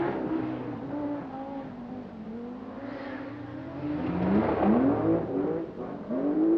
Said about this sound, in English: Just look at the power surge as Michel Mouton uses a very large chunk of a 450 brake horsepower.